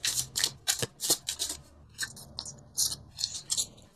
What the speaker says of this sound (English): I'm going to pull 2 more cards for you.